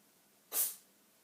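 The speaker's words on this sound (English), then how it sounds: "My cat just sneezed. Did you hear that?" A single quick, sharp sneeze from a cat, hissy and close, standing out briefly against near silence.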